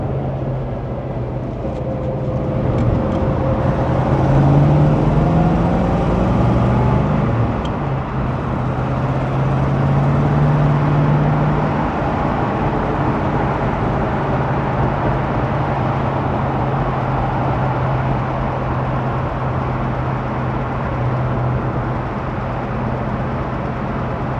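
A 1972 AMC AMX muscle car, a black rotisserie-restored survivor, cruises with a continuous close engine drone and road rumble, holding a low steady tone that rises and falls slightly over a long run with no talking.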